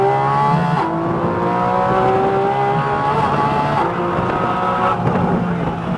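A Nissan GT-R Nismo accelerates hard on a race track, its engine drone loud, close and steady, with rising and falling harmonics as the revs change. A faint voice coaches over the engine.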